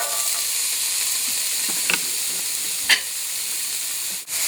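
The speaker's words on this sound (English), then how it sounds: "To brown my onions in the gradu." Onions brown in the meat drippings at the bottom of a soup pot, hissing and sizzling steadily up close, broken by a couple of sharp stirring scrapes.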